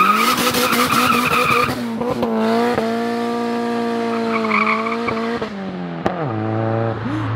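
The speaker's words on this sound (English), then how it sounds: "He tried to do a burnout." A car with no e-brake attempts a burnout in a modified Del Sol, its tires skidding and squealing loudly in long sustained tonal screeches over a roaring engine, with a sharp drop in pitch near the end.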